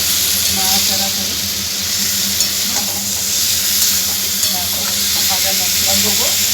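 Fish heads and vegetables for a curry being stirred in a hot pan, with continuous sizzling and frying hiss and light scraping and clinking strokes from the stirring spoon.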